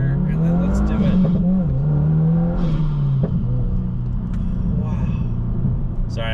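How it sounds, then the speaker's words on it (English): A tuned 2022 Subaru WRX with a DMann tune pulls hard under acceleration, its engine droning and rising in a loud, steady rumble heard from inside the cabin. "this is one of those times where I get to legitimately accelerate my car"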